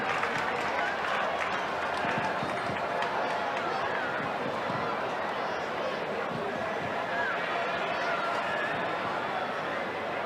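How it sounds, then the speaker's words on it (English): A crowd at a 1987 Manly versus Parramatta rugby league match applauds, a steady, dense wash of clapping and crowd noise lasting the whole stretch. "and he gets a round of applause for that one."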